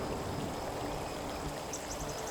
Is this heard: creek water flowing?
yes